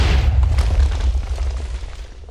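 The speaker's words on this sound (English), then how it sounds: "The mini bomb, just a big explosion that you can throw." A mini bomb from a Megaman mod in the Minecraft video game goes off in a loud, deep boom with a crackling burst, then rumbles and fades out over a couple of seconds.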